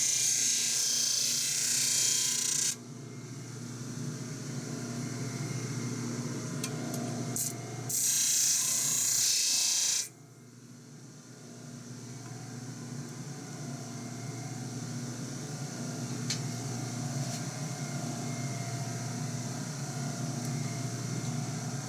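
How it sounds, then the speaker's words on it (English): An L96 rifle trigger being ground into shape, loud hissing grinding bursts at the start and again mid-way, separated and followed by a lower steady mechanical whir. "Just keep grinding until it looks good."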